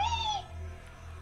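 A short rising-and-falling meow from a cat in a video game, followed by low game background hum.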